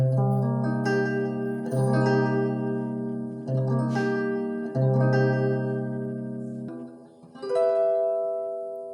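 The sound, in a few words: guitar major seventh chord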